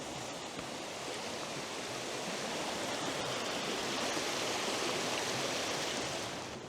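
Stream water flows steadily beside a campsite, a constant broadband rushing that stays even and fairly near, with no voices over it.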